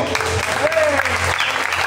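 A short burst of church congregation applause with a voice speaking over it and music humming underneath.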